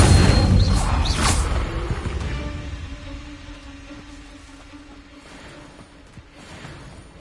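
Incendio fire spell cast in Hogwarts Legacy, a sharp whooshing burst of flame up close that booms briefly, then dies away into a low, fading rumble.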